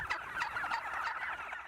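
Poultry at a quail farm in Afghanistan keep up a dense, continuous chorus of chirps and calls, moderately loud and without any talk.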